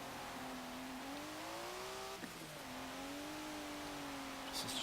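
A 1992 Mitsubishi Galant VR-4 in Forza Motorsport 7 accelerating hard, its engine note climbing steadily through a gear, a brief dip at the shift, then rising again, heard fairly quietly.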